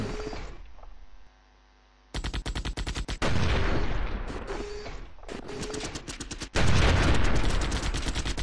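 Robot mech weapons fire in the video game Battle Mechs, with rapid machine-gun bursts and sustained volleys broken by a brief quiet gap, loud and dense over a steady electronic hum.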